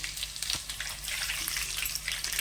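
Garlic, cumin seeds, dried red chillies, curry leaves and mustard seeds crackle and sputter in hot oil for tempering, a continuous close, bright fizzing sizzle.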